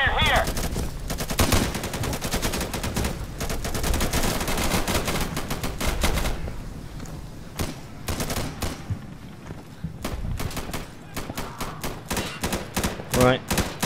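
Gunfire in the Insurgency video game, dense bursts of automatic rifle fire and rapid single shots rattling loudly throughout, briefly thinning in the middle before heavy firing resumes, with brief voices mixed in.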